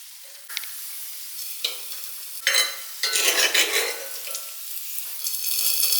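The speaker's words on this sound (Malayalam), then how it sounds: "ചെറിയ ഉള്ളി അരിഞ്ഞത് അത് വഴറ്റി ചേർക്കണം" Chopped shallots sizzle in hot coconut oil in a pan, a bright crackling hiss that swells in bursts as they are stirred, with occasional utensil scrapes.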